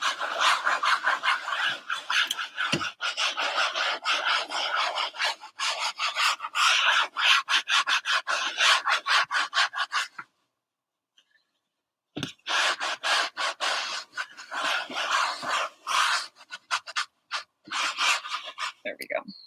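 A painted canvas base is rubbed down in brisk, scratchy back-and-forth strokes, close and fairly loud, pausing silent for about two seconds midway before the rubbing resumes.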